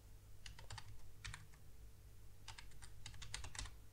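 Bursts of computer keyboard typing while writing an HTML frameborder attribute in a code editor, two clusters of quick close keystrokes separated by a pause, with steady low hum underneath.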